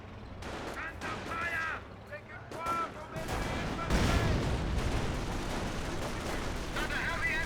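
A quad anti-aircraft gun fires in a Company of Heroes battle, with repeated rapid bursts and booming shots layered over battlefield noise, while a voice talks throughout.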